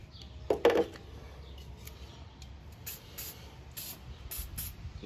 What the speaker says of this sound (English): Little bit of lubricant on there.